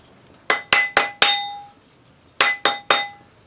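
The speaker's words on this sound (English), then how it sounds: "So just the rawhide hammer." A rawhide hammer taps thin metal rings round on a steel ring mandrel, giving seven bright ringing clangs: four quick strikes, a pause, then three more, each with a short metallic ring-out.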